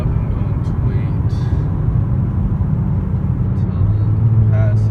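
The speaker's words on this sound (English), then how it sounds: "there's a car coming up. I'm going to wait" A car approaches on a quiet road with a steady low rumble of engine and tyres that grows slightly louder toward the end, with a person talking over it.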